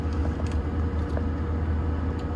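A BMW E36 with a manual gearbox idling and being revved by a learner driver, a steady low engine drone heard from inside the car, with a few faint clicks on top.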